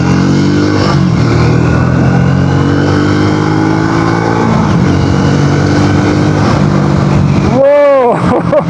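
A Triumph Speed T4 350cc motorcycle engine drones steadily while riding, loud and close with wind rush. Near the end the pitch sweeps sharply up and down as the revs change.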